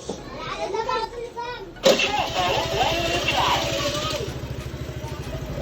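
A keyless-ignition scooter cranks briefly and starts, then settles into a close, rhythmic idle putter; someone talks over it before and during the start.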